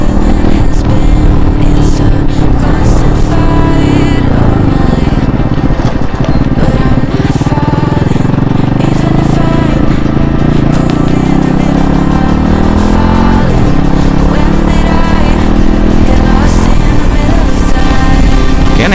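A Yamaha R15 V3 motorcycle with a modified exhaust runs loud and close, its engine droning continuously with rising and falling revs throughout.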